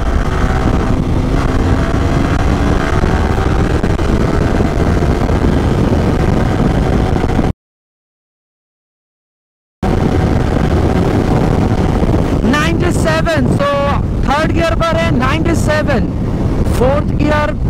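A Yamaha R15 V3 motorcycle accelerating hard in third gear, its engine note rising loud and close under heavy wind buffeting, cut by a brief silent gap before revving on with sharp upward sweeps toward the end.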